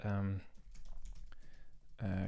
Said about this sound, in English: we were just typing them out like this